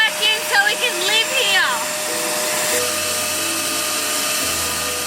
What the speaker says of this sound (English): This vacuum cleaner is saving our lives. Every night I have to vacuum